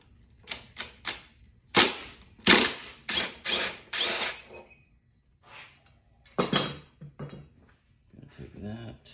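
A nut buster tool works a stuck nut on a Toro mower with a Kohler engine, giving a series of sharp ratcheting bursts and clicks at close range, irregular and spaced apart, with someone talking between them.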